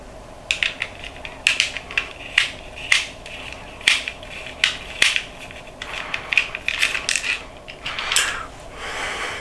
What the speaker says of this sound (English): you have to remove after these two screws here via a normal screwdriver